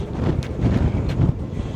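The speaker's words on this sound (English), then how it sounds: "Really windy day out." Steady outdoor wind buffeting a microphone, a low rumbling roar with occasional gusts, no voices present.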